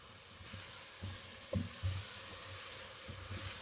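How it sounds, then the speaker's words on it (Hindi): Chopped green chillies fry in a pan with a soft, uneven sizzle, punctuated by a few brief stirring clatters, quiet and close with no talking. "इन सब को फ्राई करते हैं"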